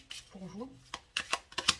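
Tarot cards are shuffled in quick crisp riffles and slaps, several short bursts close by, following a brief spoken phrase.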